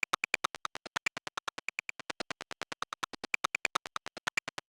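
Glitchy random notes triggered from raw recorded sounds loaded into a Simpler, a rapid, even stream of short percussive hits with varying pitch and brightness, unaccompanied by voices.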